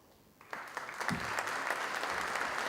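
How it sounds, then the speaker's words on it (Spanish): An audience at a conference on political and economic outlook in Gualeguaychú starts clapping, quiet at first and then building quickly into sustained, dense applause from a crowd. "aprovechamos para reiterar el aplauso"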